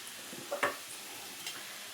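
Ingredients frying in hot oil while sweet kajjikaya pastries are made, a soft, continuous sizzle broken by a few light clinks and stirring sounds, faint and with no voices.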